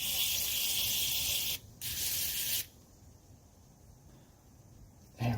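Deox contact cleaner hisses from a spray can into a window switch of a 1984 Mercedes 300SD in two close bursts, a short pause between them, then a brief final spurt after a quiet stretch.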